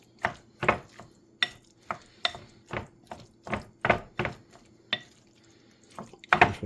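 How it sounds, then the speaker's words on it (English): Cold leftover chili stirred in a pan, a steady series of wet, thick scraping strokes about every half second, close and clear, with no other sound between. "Just want to give this a good mix."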